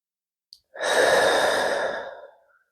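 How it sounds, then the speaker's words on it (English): A long, deep exhale during a yoga session, close and clear, rising quickly and fading slowly over about two seconds after a brief small intake sound, with no talking. "Keep breathing here."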